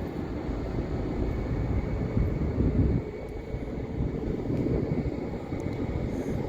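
An airliner descending to land near a busy Orlando airport, heard as a steady, distant broadband roar that holds evenly throughout with a slight swell partway, no voices present.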